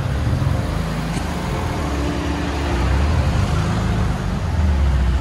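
A twin-turbo Nissan 350Z engine pulling hard toward redline, a loud close drone that builds and holds through the stretch with a steady low growl and no talking.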